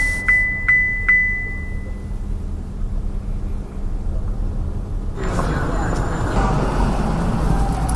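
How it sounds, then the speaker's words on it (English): A car's driver assistance feature sounds three quick, clear alert chimes in a row, then the chimes stop and louder cabin road noise rises and continues to the end. "There's also a chime that's associated with the feature."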